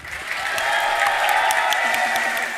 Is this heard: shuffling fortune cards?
no